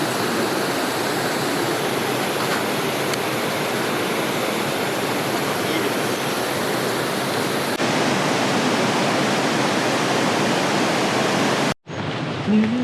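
A mountain waterfall in Svaneti, Georgia roars as a dense, steady rush of falling water, loud and unbroken for several seconds before cutting off abruptly near the end.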